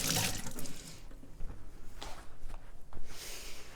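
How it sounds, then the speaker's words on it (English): Running tap water splashes over hands at a sink, with a burst of flowing water at the start and then softer intermittent splashes and trickles, close by with no talking. "I washed my hands before we started, and I washed my hands again."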